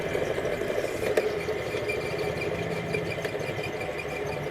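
A wall fan's small oscillation motor whirs and strains steadily, failing to swing the fan, with a rough grinding hum and occasional faint squeaks, close by and without voices.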